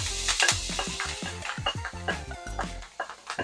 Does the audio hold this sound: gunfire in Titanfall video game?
no